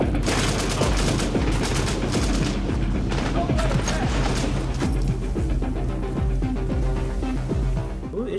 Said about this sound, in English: Who is shooting at you?